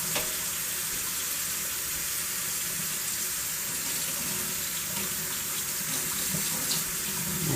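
Running water steadily rinses and splashes over a postwar Lionel F3 locomotive frame being washed down before painting, a continuous close hiss and patter with no voices.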